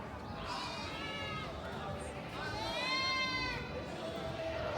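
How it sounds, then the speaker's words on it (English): Goats from a herd bleat in drawn-out, wavering cries, two loud calls standing out over a noisy outdoor background in Alexandra, Johannesburg. "Somebody has a whole herd of goats."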